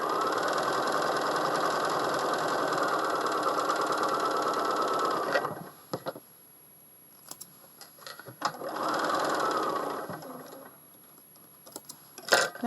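A sewing machine stitches a quilt block for a charity disappearing nine-patch quilt, running in a steady, continuous loud whir for about five seconds, then stopping briefly before a second shorter run, with small handling clicks in the pauses.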